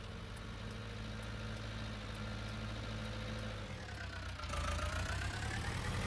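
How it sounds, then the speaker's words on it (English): Tractor engine running in the Farming Simulator 19 video game, a steady low rumbling drone that shifts pitch and grows slightly louder partway through, continuous and close. "I really do like this tractor."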